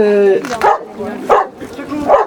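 A young Golden Retriever, about fifteen months old, barks several times at an outdoor dog demonstration. The short, loud barks come in a loose rhythm, with voices nearby.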